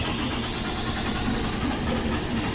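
A PistenBully snow groomer's diesel engine, glow-plug equipped, runs with a steady, rough, broadband drone and a low rumble, close and continuous with no voices.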